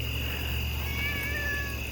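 A cat gives one faint, drawn-out meow against a steady background hum and high insect-like whine.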